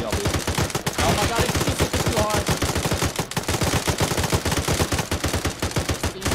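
Rapid rifle fire in a military shooter game, a fast, steady stream of loud shots with brief pauses, continuing close and prominent throughout.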